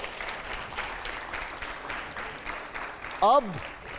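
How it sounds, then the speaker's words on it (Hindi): Scattered clapping from an audience at a political event in Bihar, fairly faint and steady, with a short burst of another sound near the end. "जरा जोरदार तालियां हो"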